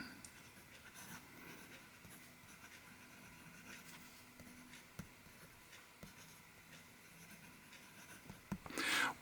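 A slim brass Kaweco Lilliput fountain pen scratches softly across paper in short strokes with small pauses, quiet and close, ending in a louder rustle.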